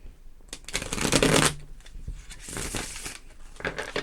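Thoth tarot cards riffle and shuffle close up, two quick bursts of crisp flapping with a softer shuffle between them.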